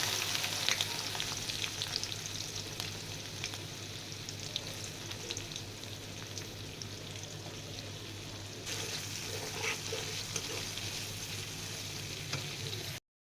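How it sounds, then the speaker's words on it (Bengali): Chopped onion and garlic frying in oil in a pan while chicken chow mein is being cooked, a steady close sizzle with occasional stirring scrapes and no talk. "এখন আমি এই তেলেই দিয়ে দেবো পেঁয়াজ আর রসুন কুচিটা"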